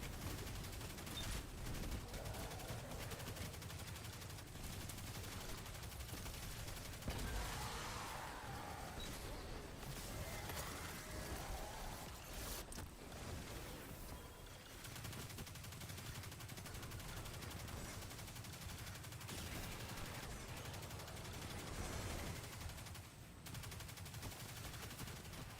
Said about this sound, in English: God, those bombs